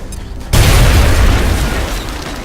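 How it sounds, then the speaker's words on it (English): A high explosive grenade detonating in the strategy game XCOM, one sudden loud boom with a deep low-end rumble that lingers and slowly fades. "let's just give it the high explosive grenade"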